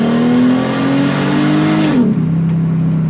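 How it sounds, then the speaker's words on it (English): A Mercedes SLK32 AMG engine revs loud and steady, its tone rising, then drops sharply as a paddle downshift kicks in and settles into a lower, continuous engine drone. "Downshift, do a nice little pull."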